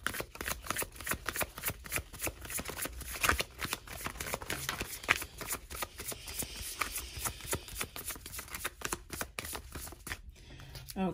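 Tarot cards being shuffled by hand, a continuous run of crisp riffling flutters and soft slaps close up, ending with a brief pause near the end.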